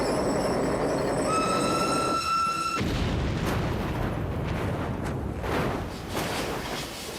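A train rolls along the rails with a steady heavy rumble, a high wheel squeal ringing over it at first, then a dull boom and continued clattering, close and loud.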